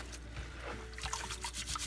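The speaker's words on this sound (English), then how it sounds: "One of the things that you want to do with the rice is rub the grains together" Rice grains are rubbed together by hand in a bowl of water while washing rice for sushi, giving a quiet, continuous wet swishing and soft trickling.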